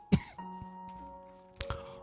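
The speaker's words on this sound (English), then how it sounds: "I still have a cough" A single sharp cough bursts out near the start, with a second rougher cough or throat-clear about a second and a half later, close and fairly loud over a quiet background with a steady faint hum.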